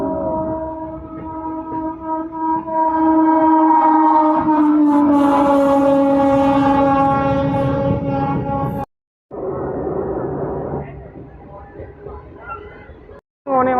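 The Kalka-Howrah Netaji Express passes close alongside a local MEMU train, a loud sustained roar with a long, wavering horn blast over it, then a brief cut and continued rolling rumble.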